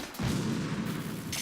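An explosion set off by gunfire at a swarm of bugs in Metal Gear Solid 2: Sons of Liberty HD hits as one loud, sudden blast, followed by a sustained rumbling, crackling roar.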